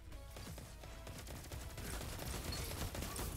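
Sustained automatic rifle fire in the video game Destiny 2 during an Oracle raid encounter, a dense continuous stream of shots layered with game effects and explosions throughout.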